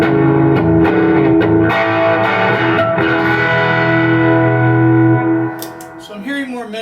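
A Fender 65 Princeton Reverb reissue combo amp, loud and close, rings out sustained guitar chords with a lot of reverb, then the notes fade and a few lighter plucked notes follow.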